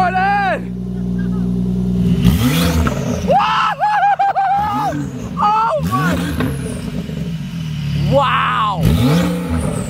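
A loud modified Porsche 911 Turbo S engine revs repeatedly, rising and falling in sharp bursts, with excited voices talking over it.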